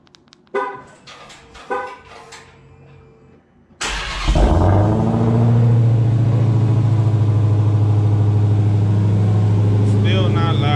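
A Dodge Challenger Hellcat Redeye with a 797 hp engine and stock exhaust cranks and fires up with a loud burst, then settles into a steady, deep, rumbling idle close by; brief voices come before the start.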